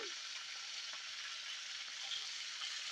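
Okra pieces frying in a pan for a sesame okra chutney, giving a steady, even sizzle with a bright hiss that carries on unbroken throughout, with no voices.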